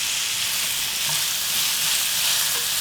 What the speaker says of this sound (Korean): 처음에는 콩기름으로 볶아.